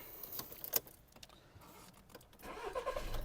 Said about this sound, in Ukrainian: Пропоную перейти до технічної частини запустити двигунчик і послухати, як він працює.